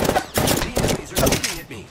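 Enemy gunfire in Apex Legends rattles out in three or four loud, close automatic bursts separated by brief gaps.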